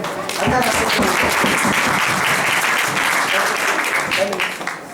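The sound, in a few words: audience applauding loudly at a youth conference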